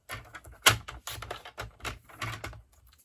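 Paper trimmer blade slicing through cardstock for a stamped stationery box, a string of short, close, crisp cutting strokes and sliding clicks spaced through the passage, with no talking.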